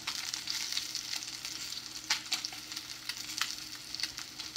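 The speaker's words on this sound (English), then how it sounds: "I want to sear it enough so like I have a nice crust" Salmon searing in a hot pan to build a crust: a continuous soft sizzle and crackle, fairly quiet, with a few sharper spatters and no voices.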